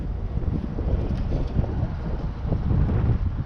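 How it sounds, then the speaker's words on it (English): Wind gusting across an open farm field where an old International Harvester 7 disc harrow is being worked, a steady low rumbling buffet against the microphone that swells slightly near the end, loud and continuous with no speech. "because the wind is definitely picking up."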